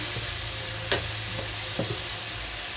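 Ginger, garlic, cumin paste and turmeric frying with onions in a pan for a meat curry, a steady close hiss of sizzling oil broken by a few soft clinks and scrapes of stirring, with no voices.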